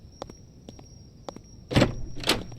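In the Night Clerk video game, a door swings into the player: soft clicks and footsteps lead to two loud, close thuds of the door hitting, under a steady electrical hum.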